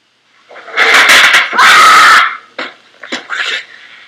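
A piercing scream cuts through a frightening scene, starting after a short silence and holding for a couple of seconds before breaking into shorter, wavering cries and yelps, loud and up close.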